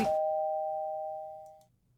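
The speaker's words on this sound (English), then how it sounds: "I'm cut off by the sound of the room's doorbell." A room doorbell in the video game Kimochii Classroom gives a single clear electronic ding that rings out steadily and fades over about a second and a half, with no voices.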